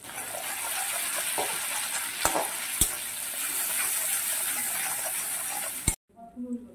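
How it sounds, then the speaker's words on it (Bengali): Spice masala with Kashmiri chilli powder fries in a pan, giving a steady bright sizzle. A couple of sharp clacks from stirring cut through it before the sound stops abruptly, followed by a brief murmur. "এবারে মশলাটা খুব ভালো করে কষিয়ে নেব। দিয়ে দিচ্ছি একটু কাশ্মীরি লঙ্কার গুঁড়ো।"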